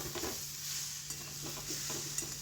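Banana flower curry stir-fried in a pan, with a soft constant sizzle and light scraping stirs from a spatula, quiet and close with no voices.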